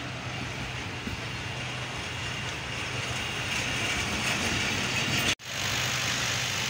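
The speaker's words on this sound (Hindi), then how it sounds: "ट्रेन ने जो है दोबारा यहाँ से स्टार्ट कर दिया है चलना" The Millat Express pulls away again from Dhabeji station near Karachi: a steady broadband diesel-and-rail rumble with hiss, fairly close, running evenly before a sharp cut and resuming, with no talking.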